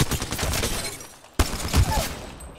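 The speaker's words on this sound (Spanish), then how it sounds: "Me disparan, amigos. Disparando." Rapid bursts of gunfire from an Alternator weapon in the battle royale game Apex Legends, dense and loud, with a sharp shot cutting in after a brief dip midway.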